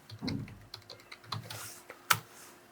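A computer keyboard types a command into a terminal, a short burst of close, crisp key clicks with uneven rhythm and one sharper keystroke near the end.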